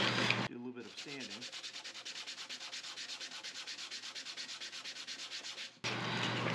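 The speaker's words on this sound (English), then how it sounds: "Do a little bit of sanding." A custom inlay ring for a Battleship Alabama piece is sanded by hand with rapid, rhythmic rubbing strokes. The close, steady scratching begins after a brief pause and runs for about five seconds before breaking off, and no one speaks.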